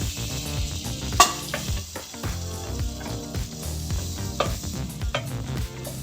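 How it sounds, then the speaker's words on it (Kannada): Butter heating in a pressure cooker for a country chicken curry crackles and sizzles steadily, close up, with a sharp metallic clink and scraping stir sounds along the way. "ಸೊ ಈಗ ನಾನು ಕುಕ್ಕರ್ ಇಟ್ಕೊಂಡಿದ್ದೀನಿ. ಅದಕ್ಕೆ ಸ್ವಲ್ಪ ಬೆಣ್ಣೆ ಹಾಕ್ತಾ ಇದ್ದೀನಿ."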